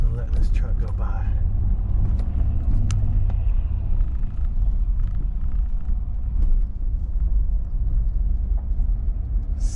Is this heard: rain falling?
no